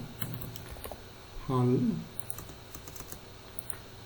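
Typing on a computer keyboard while working in AutoCAD: soft, scattered key clicks spread across the clip, with a short burst of voice partway through.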